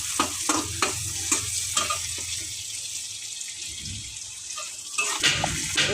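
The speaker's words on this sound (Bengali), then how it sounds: "টমেটো কুচিটা একটু নেড়ে চেড়ে নিই" Chopped tomato sizzles and fries in a pan for a Bengali egg and potato curry, with repeated scraping stir strokes of a spoon through the first seconds, then steady frying hiss, more stirring clatter near the end.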